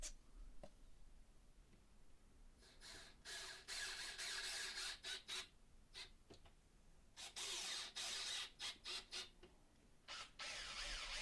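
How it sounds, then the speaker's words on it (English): Black+Decker BCD700S 18V cordless combi drill boring small pilot holes in wood, faint bursts of whirring drilling that start and stop in short runs, quiet and unaccompanied by speech. "for drilling pilot holes, it does the job just fine"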